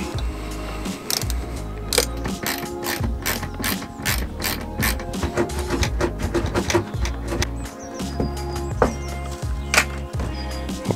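A ratchet undoes a small 10 mm bolt holding the door mirror on a Ford Mondeo Mk4, with rapid, steady clicking pawl strokes repeated close up for several seconds, no talking.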